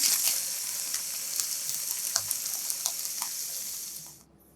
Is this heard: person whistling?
no